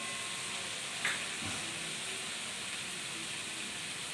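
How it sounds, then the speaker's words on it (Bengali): Spices and turmeric sauté in a hot pan for a katla fish curry, a steady broad sizzle and hiss running throughout at close range, with a brief clink of utensil near the start. "ভালো করে কষতে হবে।"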